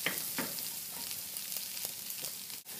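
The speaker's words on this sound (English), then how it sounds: "Whilst your onions are sizzling away, the turmeric will sink in and cook along with them" Chopped onions and turmeric frying in a pan for paella give a steady, close sizzle with soft crackles and an occasional stir, and nobody speaks over it.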